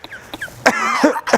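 A parrot imitates a human cough, a few short harsh bursts followed by a rough throat-clearing-like rasp, close and clear with no speech.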